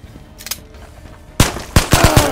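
Gunfire in the Ghosts of Tabor VR shooter: after a few faint distant pops, loud close bursts of rapid automatic shots ring out, alone and sharp.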